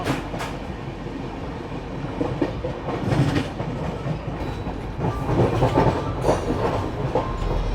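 Moving train with a steady, dense rumble of rail cars and repeated clickety-clack of wheels over rail joints, continuous and close, with no talking.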